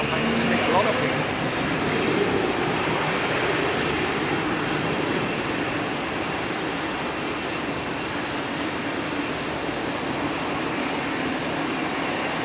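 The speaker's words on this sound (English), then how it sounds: "Bill H has just come back from Cyprus on the 321neo" An Airbus A321neo jet at London Heathrow Airport produces a steady, broad engine roar that holds throughout, fairly loud and constant, with faint voices talking underneath.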